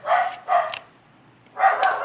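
A dog barks in three separate bursts with a pause before the last one, nearby and moderately loud, during a walk while tiny-house framing work goes on.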